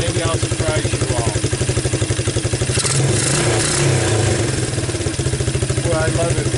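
Suzuki Quadrunner LT230 ATV engine fitted with a PZ27 clone carburetor, idling with a steady loud throb and briefly revving up in the middle before settling back to idle.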